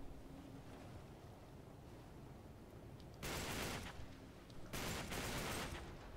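An enemy carrying a grenade explodes in the video game Uncharted 3, producing two loud, rough blasts a second apart that rise sharply over a low, windy background and then fade.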